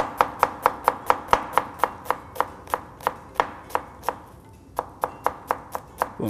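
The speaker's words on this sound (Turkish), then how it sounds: "Diğer yarısını da aynı şekilde şöyle ince ince doğrayalım" Fine chopping of onion with a kitchen knife on a board, a long run of quick regular knocks, close and distinct, pausing briefly before the rapid strikes resume, with no voices.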